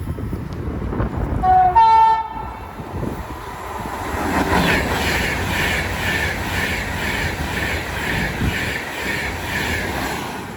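An Avanti West Coast Class 390 train passes through Watford Junction on the West Coast Main Line, sounding a short two-tone horn blast before a loud, sustained rush and rumble of the train going by.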